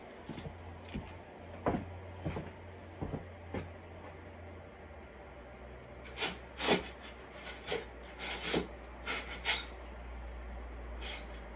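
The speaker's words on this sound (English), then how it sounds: "So first we can start off with a file like this, and I have a finer file inside" A hand file rasps against wood in short, separate strokes while shaping a Tenkan overtone flute, with a few scrapes early on and a quicker run of strokes later, heard up close over a steady low background hum.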